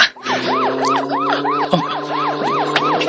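A police siren wails loudly and close by in a rapid, repeating up-and-down yelp, cycling evenly for the whole stretch over a steady engine hum, with no talking.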